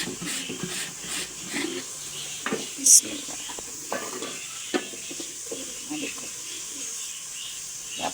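Chopped onions frying in ghee in a pan for moong dal, giving a light crackling sizzle with occasional stirring scrapes and clinks, and a sharp high squeak near the middle.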